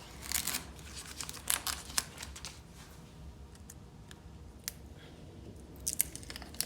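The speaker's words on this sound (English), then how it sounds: "So after your last coat and you're sure you don't want to do any more coats, take that tape off." Tape is peeled off a painted stencil, producing close, faint crinkling and tearing rustles in uneven bursts, busier at the start and end.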